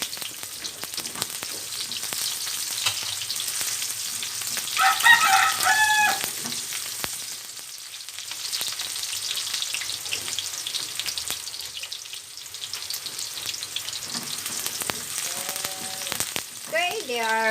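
Garlic and onion fry in a pan with a steady close sizzle that runs the whole time. A rooster crows faintly in the background several times.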